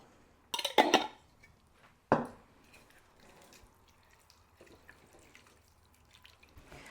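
Beef broth poured into a pot of chili, two short splashing bursts close by, the first longer with a clattering edge and the second a quick splash, then quiet kitchen background.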